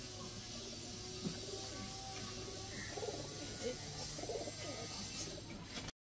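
Madrasi pigeons kept by a hobbyist pigeon fancier coo softly and repeatedly at close range over a steady hum. The sound cuts off abruptly at the end.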